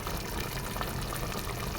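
Khichuri coming to a rolling boil in a pot, a steady, soft bubbling and gurgling wash of liquid, close and continuous, with no talking.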